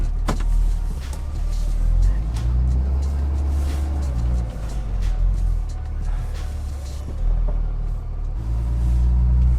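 Old third-generation diesel pickup truck engine rumbling steadily as it backs up, a loud, continuous low drone throughout with no talking.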